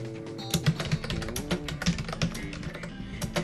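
Quick, close clicking keystrokes on a computer keyboard patter in an uneven rhythm, loud and alone with no voices.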